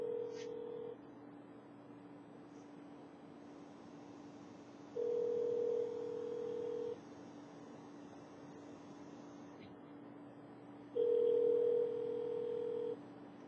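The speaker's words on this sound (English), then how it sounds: "let's put the phone on speaker and hit redial again." A phone redialing on speaker while sealed inside a foil Faraday cage: faint steady tones with two louder beeping bursts of a few seconds each, spaced apart over a low hum.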